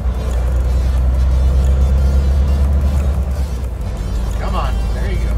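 A semi-truck with an iShift automated transmission accelerates in a steady loud low-frequency drone heard from the cab, with a voice talking over it throughout.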